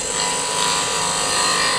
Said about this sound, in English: I'm going to move this and we'll start cutting the ring off